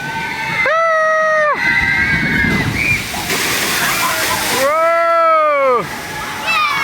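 A splash waterfall dumps water onto people, a loud rushing slosh and spray mixed with excited crowd noise and squealing voices that rise and fall in bursts.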